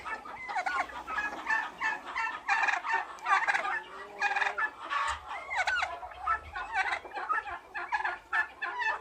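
Turkeys gobble and cluck repeatedly in bursts, close and fairly loud, the rattling calls overlapping one another with no talking.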